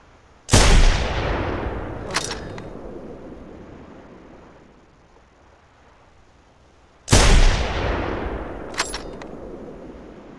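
Two loud gunshots from a rifle aimed at a T-rex in the hunting game theHunter Primal, each a sharp blast about six seconds apart, trailing into a long rolling echo that fades slowly into the open landscape.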